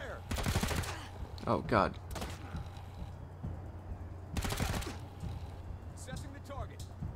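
Gunfire in the video game Wasteland 3, with loud rapid bursts of automatic fire and sharp shots in separate volleys, mixed with game voices and a short spoken exclamation.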